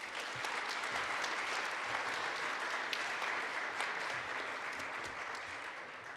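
A college convocation audience claps together in a dense, even round of applause that holds steady for several seconds before easing slightly. It sounds somewhat distant and soft.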